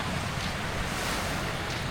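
Surf rolls onto a beach shore in a steady, loud wash of sea waves mixed with wind, filling the air without a break or any voices.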